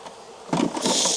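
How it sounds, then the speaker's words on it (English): Bees buzzing inside a small hive box of about three frames, a close, rising drone that swells louder partway through and keeps humming without pause. "these are just bees."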